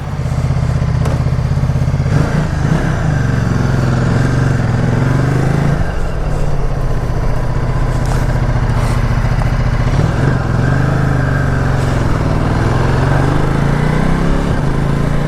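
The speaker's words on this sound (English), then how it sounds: "I'm off on the Multistrada and it's got no petrol" A 2018 Ducati Multistrada 1260S motorcycle being ridden, its engine running loud and close with a steady throbbing drone and small shifts in revs across the whole stretch, no voices.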